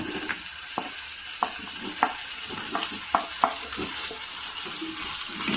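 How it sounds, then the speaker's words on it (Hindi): Onions sizzling and frying in a pan with Kashmiri chilli for malai kofta gravy, a steady hiss with several sharp clinks of a spoon stirring against the pan. "तो फ्रेंड्स, प्याज हमारा भून रहे हैं।"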